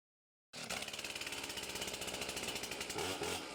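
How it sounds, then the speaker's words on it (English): Loud, buzzing chainsaws cutting in a South Broadmoor neighborhood start abruptly after a brief silence, a harsh rattling drone with rapid regular pulsing that continues steadily. "The sound of chainsaws"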